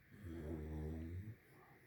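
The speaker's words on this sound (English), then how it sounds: "puppy is snoring" A puppy snores close by, one slow drawn-out rasping breath that rises and then fades out.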